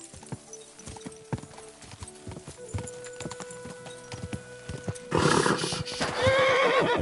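Hooves clip-clop in a quick rhythmic gallop in the video game Kingdom Come: Deliverance II, then a horse lets out a loud whinny near the end.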